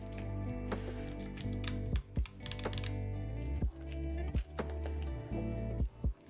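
Clacky keystrokes on a custom mechanical keyboard fitted with a new keycap set, built from an Orbit R2 prototype, come in an irregular close-up run with several heavier thocks over a steady low background hum.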